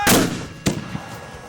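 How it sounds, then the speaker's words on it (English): A powerful mortar or cannon blast booms at the start during a shooting competition, followed by a second sharp report and fading echoes rolling across open ground. "the large explosions of the mortar and cannon matches draw the largest crowds"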